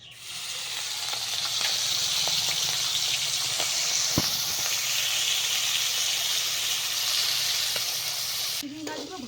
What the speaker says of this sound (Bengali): একই তেলে এবার চিংড়ি মাছগুলো ভেজে নিব।